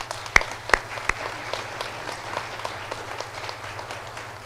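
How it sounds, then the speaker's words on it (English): A few sharp, separate claps ring out in the first second from the audience at a conference closing ceremony, then thin into faint, scattered applause that fades into the room's low hum. "I would like to ask you all to give once more an applause to all our speakers"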